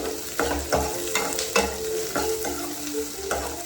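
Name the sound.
onion and chilli frying in a pan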